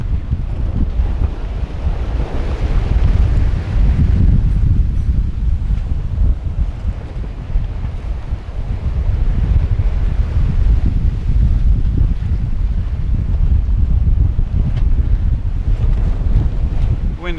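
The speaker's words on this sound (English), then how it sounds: "Wind has picked up a little bit though" Strong wind buffets a sailboat at sea, a loud, steady roaring rush with heavy rumble from wind hitting the microphone, continuous for the whole stretch with no clear voices.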